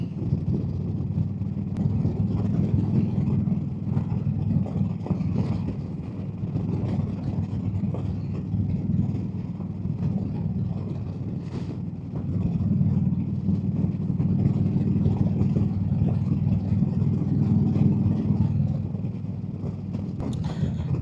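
A motorcycle ridden on a fall day, with a steady low engine drone and heavy wind buffeting the camera mic, swelling and easing in long waves as speed changes.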